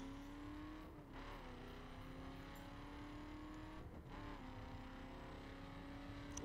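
Steady engine drone of a car cruising in The Crew, a constant tonal hum with two brief dips where the pitch drops and climbs again, like shifting gears, fairly quiet and even throughout.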